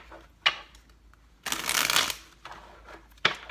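Tarot cards being shuffled by hand, a few quick riffling bursts and taps separated by short pauses, close and fairly quiet with no talking.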